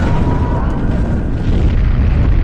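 An elevator explodes in a film scene, a loud, dense boom with rumbling low-end roar that stays heavy and continuous throughout, with faint mixed background sound.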